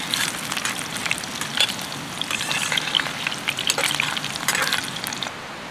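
Potatoes fry in mustard oil over a camp fire in a winter forest, giving a steady close crackling sizzle with scattered pops throughout and no voices.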